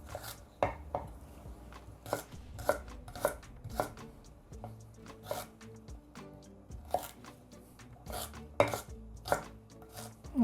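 Steady knife chopping citrus zest on a cutting board, sharp rhythmic taps at an uneven pace, close and clear with no talking.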